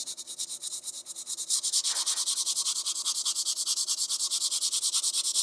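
Sandpaper rubs back and forth over a resin-coated 3D print in quick, even strokes, a close, rhythmic scratchy rasp repeating steadily throughout, with no talking.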